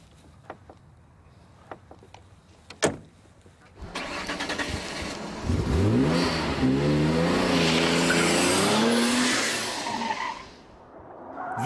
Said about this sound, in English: This is a noble M12 GTO